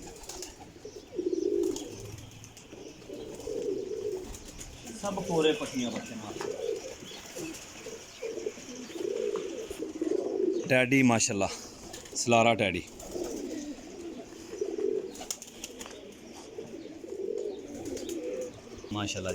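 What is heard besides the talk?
pigeons cooing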